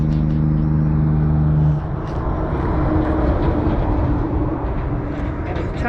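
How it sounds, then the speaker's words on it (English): A truck passes on a road in country Victoria near Bright, a loud low rumble for the first two seconds that eases into steady broadband traffic and wind noise, with faint voices in the background. "There's a truck going by."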